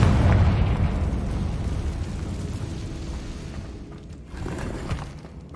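A Confringo blasting spell explodes in Hogwarts Legacy inside catacombs, a loud booming burst that rumbles and fades over several seconds, followed by a smaller pop and crackle.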